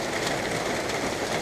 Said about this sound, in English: All morning. Rain, rain, rain, rain, rain.